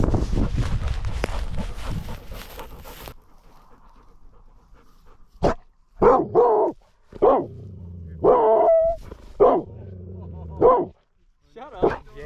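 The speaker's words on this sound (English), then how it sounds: "He's afraid of the cows, but he'll bark at you." Dog barking in a series of sharp, loud barks close by at a dove hunt, following panting and rustling, with someone talking in between.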